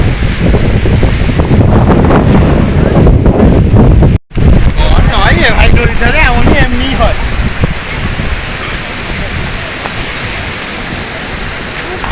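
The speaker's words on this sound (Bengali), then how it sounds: "এখন ঢেউ সাগরে প্রচণ্ড ঝড় উঠেছে" Rough surf churns and crashes at Digha beach during a strong sea storm, wind battering the microphone, loud and continuous, with a brief cut midway and faint voices beneath.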